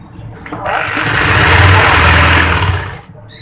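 A sewing machine stitching a baby kaftan top runs in one loud, close, steady whirring burst of about two and a half seconds, starting and stopping abruptly.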